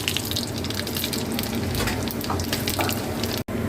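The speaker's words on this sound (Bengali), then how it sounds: "এই বড়ি ভাজার তেলে আমি তেজপাতা আর এই জিরেটা ফোড়ন দিলাম" Bay leaves and cumin seeds temper in hot oil left from frying lentil dumplings, giving a steady, dense, close sizzle that crackles throughout, with one brief cut near the end.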